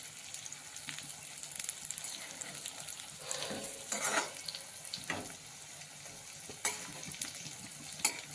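Green chillies soaked in curd frying in a pan and stirred constantly, a soft crackling sizzle with scraping turns of a spoon, close but fairly quiet.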